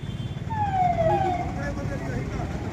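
An ambulance siren sweeps by with rising and falling wails, moderately loud over a busy street roar, while people talk during a rally.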